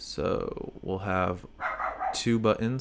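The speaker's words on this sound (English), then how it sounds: "Sorry about the dogs in the background." Dogs bark and yip in the background behind a person talking close to the microphone indoors, the barks intermittent and partly masked by the speech.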